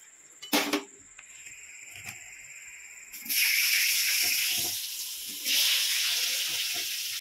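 Chicken fries in oil with salt and turmeric in a kadai, giving hissing sizzle bursts that swell loudly after a few clattering knocks and stay strong, with no talking.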